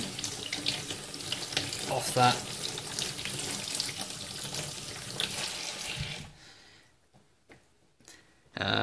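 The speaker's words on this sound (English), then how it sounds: "So we're just going to get over to our sink, rub a bit of water on it" Water runs steadily from a sink tap for about six seconds, splashing as a Millennium Falcon model part is rinsed, then shuts off, leaving quiet handling sounds and a brief word.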